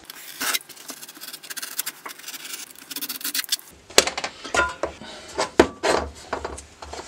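Carpet being cut with a blade for the one-piece footrest of a Lomax kit car, giving close, uneven rasping and scraping strokes with brief pauses and handling noises.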